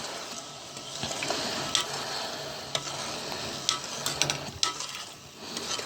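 A spoon stirs a vinegar, salt and sugar marinade for pickled zucchini in a pot, with continuous swishing, a light sizzle and scattered clinks against the metal.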